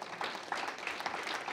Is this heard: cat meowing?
no